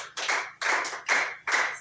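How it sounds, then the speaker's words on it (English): Children in a school classroom clap for a classmate in four distinct, evenly spaced bursts of clapping, close and fairly loud, with no voices over them. "Clap for her"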